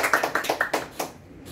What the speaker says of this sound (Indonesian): Tepuk tangan dong, Pak, buat kita semua.